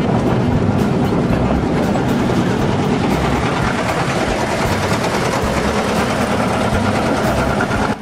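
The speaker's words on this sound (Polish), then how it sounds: "Ten skład prowadzi kilka wagonów osobowych, na których widnieją napisy cyrylicą." Vintage Bulgarian BDŻ passenger cars, built in 1925 in Wrocław, roll past in a train, giving a loud, steady rumble with continuous clattering wheel noise throughout.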